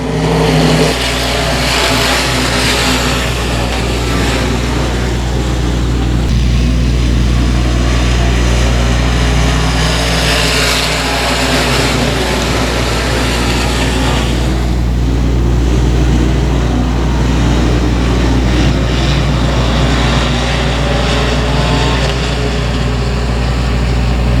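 Dirt track race cars thunder past on a night of racing, a loud, dense engine roar that swells and recedes in waves as the field circles the track, with no voices.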